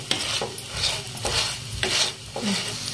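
A spoon mashes egg into rice in a hot pan for street-style egg tawa pulao, making repeated scraping and stirring strokes against the metal over a soft sizzle, with no talking.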